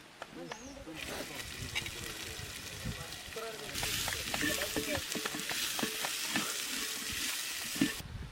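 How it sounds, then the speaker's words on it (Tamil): Crushed masala of mustard seeds, cumin, black pepper and garlic fries for crab soup in an outdoor jungle kitchen. A loud, steady sizzle is heard up close, swelling as more goes into the hot pan, with stirring clatter throughout. "சிறிதளவு கடுகு, ஜீரகம், நல்ல மிளகு, பூண்டு 3 சேர்த்து இடித்த மசாலாவை போட்டுக்கலாம்"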